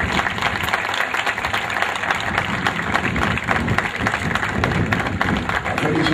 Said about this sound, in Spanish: desde aquí brindamos un fuerte aplauso